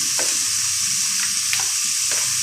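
Onion and tomato sauté in a hot pan for beans kurma, producing a loud, constant sizzle with a few sharp spoon-stirring scrapes over about two seconds.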